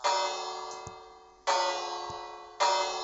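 A Minecraft village bell tolls three times at a slow, even pace, each clang ringing out and fading before the next strike.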